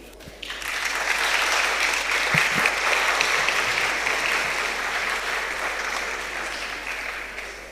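An audience at a national public speaking competition semi-final bursts into sustained applause. The clapping swells quickly and stays loud and dense throughout, easing slightly near the end, with no talk over it.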